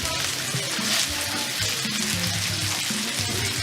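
Meatballs frying in a shaken pan on low heat, turning golden brown: a steady, close hiss and crackle of hot oil that runs without a break.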